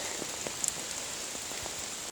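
Steady rain falls at night in the British countryside of Oxfordshire, a dense close patter of drops on leaves and ground with occasional louder drips, no voices, cutting off abruptly at the end.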